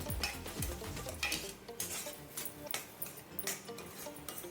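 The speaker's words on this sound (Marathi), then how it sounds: "अशा प्रकारे छान मिक्स करून घ्यायचं" Semolina and milk being stirred together in a pan for rava barfi, a close, steady scraping of a spoon against the pan with light clinks of metal, continuing without talk.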